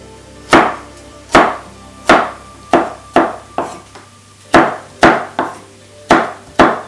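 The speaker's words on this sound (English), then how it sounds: "And now I'm going to chop the carrot." Knife chopping carrot on a wooden board for Xinjiang lamb pilaf: about a dozen sharp, close thwacks at an uneven, unhurried pace, with no talking.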